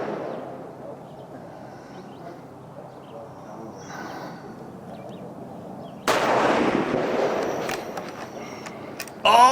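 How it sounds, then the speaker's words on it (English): Shots in a head-to-head shooting match final, heard as a few sharp reports, the loudest bursting in near the end over low, steady outdoor background. "Last 5 shots."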